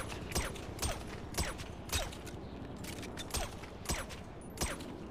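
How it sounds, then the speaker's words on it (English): Rapid bursts of gunfire in a GTA V NoPixel roleplay shootout aimed at a helicopter, sharp shots cracking in irregular clusters about every half second over a steady rumbling background. "I'm trying to shoot a heli."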